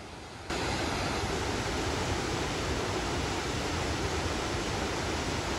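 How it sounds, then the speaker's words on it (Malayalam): Thoovanam waterfall in Idukki pours in a steady, dense roar of rushing water that starts abruptly and then holds constant and loud throughout, with no voices. "ഇനി നമുക്ക് വെള്ളച്ചാട്ടത്തിൻ്റെ വിശേഷം ആവോളം കാണാം."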